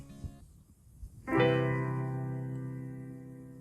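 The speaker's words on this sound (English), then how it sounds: "This is the sound of a major 7th chord in root position" After a few soft bumps, a major 7th chord in root position is struck once and rings out alone, slowly decaying.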